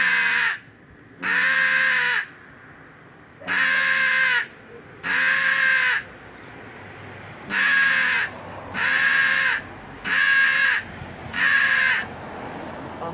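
A game caller imitates a hooded crow's greeting call: eight harsh, loud, close caws in a slow series, each about a second long with short gaps between them. No other sound competes.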